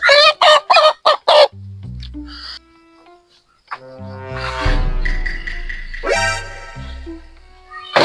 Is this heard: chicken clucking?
yes